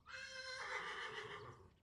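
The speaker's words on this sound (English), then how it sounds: "Horses are talking." A horse at a show jumping yard lets out one long, fairly close whinny that starts high and clear, then turns rougher and fades, with no talking.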